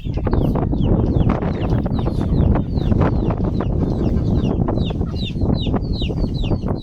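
Roosters and hens, including a big rooster and a large white hen, cluck and call busily while being hand-fed mulberries, with many short, repeated vocal bursts overlapping close by against a steady background.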